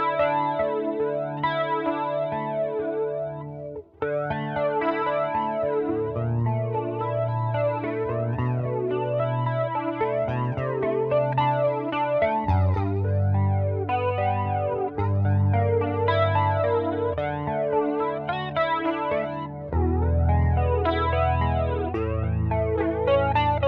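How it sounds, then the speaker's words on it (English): Electric guitar run through phaser and flanger pedals alongside a Boss MD200 modulation unit, playing sustained chords and picked lines with a sweeping, swooshing tone that rises and falls, loud and continuous for the whole stretch. "swap to our phaser and flanger and play a little bit on that"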